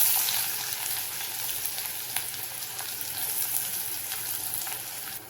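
Onion fries in oil in a kadai after mustard seeds and cumin, making a continuous close sizzle with scattered small crackles that fades slightly toward the end, with no speech.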